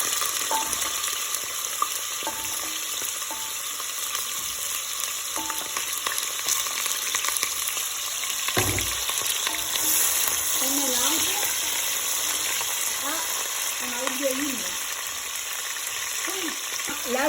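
Vegetables sizzle and fry steadily in a generous amount of hot oil for homemade Mahoran pilao, a continuous crackling hiss with occasional stirring clatter and a brief thump partway through.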